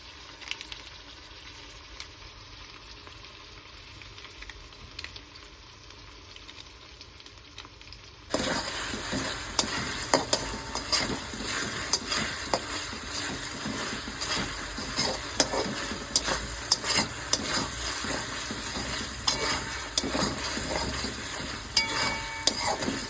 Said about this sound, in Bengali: জিঞ্জার গার্লিক পেস্টটা দিয়ে দিলাম